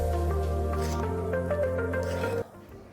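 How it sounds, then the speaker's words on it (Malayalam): Star fruit pickle being stirred together with vinegar, giving a steady wet squishing under a constant low hum that stops abruptly near the end. "ഇനി നമ്മൾക്ക് ഇതിലേക്ക് കുറച്ച് സുർക്ക പാരുക. നല്ലോണം മിക്സ് ആക്കുക."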